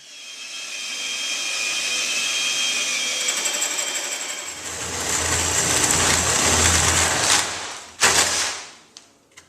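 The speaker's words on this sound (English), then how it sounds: "So my trusty assistant Aaron is going to be drilling some holes in our frame for creating a stem form." A power drill whines steadily and close for several seconds drilling holes in a wooden canoe frame, then its motor shifts to a lower, rougher tone before cutting off with a short burst of noise.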